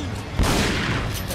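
Shotgun blast in the video game Resident Evil 4, a single loud boom with a broad burst that hangs and rumbles under dense game noise.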